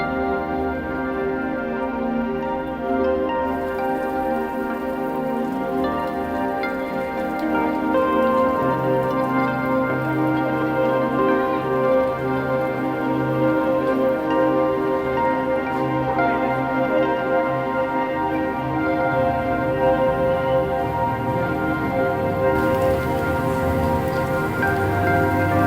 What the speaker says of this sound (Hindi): ये बारिश है कि रुकने का नाम नहीं।